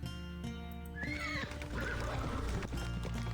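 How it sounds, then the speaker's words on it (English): Horses in a video game whinnying loudly as a carriage pulls away, a drawn-out neigh over a low musical drone, followed by clattering hooves and rolling movement. "With loud neighs, the carriage moves."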